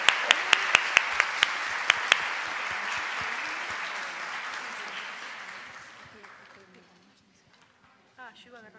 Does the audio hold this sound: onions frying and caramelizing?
no